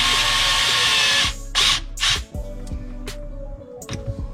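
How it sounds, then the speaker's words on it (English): A power drill or driver tightens a hose clamp on a dishwasher air gap, whirring steadily and loud for over a second, then firing several short, close bursts. "So let's go ahead and tighten this hose clamp down."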